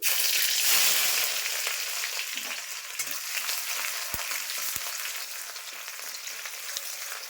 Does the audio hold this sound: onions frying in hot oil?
yes